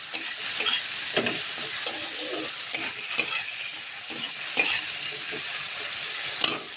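Spice paste with chili powder and a small tomato fries and sizzles in a pan for a cabbage curry, a close, steady crackle broken by repeated sharp scrapes and taps of a spatula stirring, with no voices.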